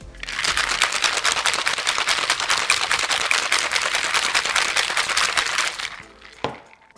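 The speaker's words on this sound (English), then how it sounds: "Now shake until well chilled" A cocktail shaker packed with ice and cream of coconut shaken hard and steadily for about six seconds, a dense rapid rattle of ice against the tin, loud and close, ending with a single knock.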